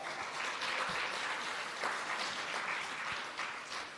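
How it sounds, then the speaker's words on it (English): An audience at a senior citizens' week launch applauds the seniors, a dense, steady patter of many hands clapping from start to end, fairly distant in a large room. "I want to give our seniors a round of applause."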